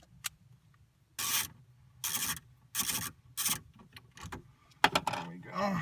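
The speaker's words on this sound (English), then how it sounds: "we're gonna use a 10mm socket to remove the radio from its housing" A 10mm socket wrench works at a car radio's mounting in its dash housing, giving several separate bursts of scraping, rasping turns with short pauses between them, near and fairly loud, with light clinks toward the end.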